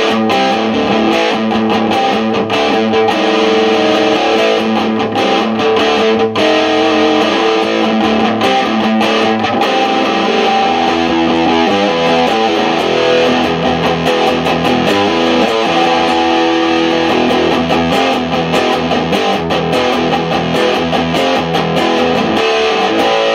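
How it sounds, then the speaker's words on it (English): A 1976 Gibson Les Paul Custom electric guitar with T-Top pickups plays heavily distorted chords and riffs on its bridge pickup, loud and continuous for over twenty seconds with no voices. "If I want to crank this up and get some distortion, you've got everything you need there on that"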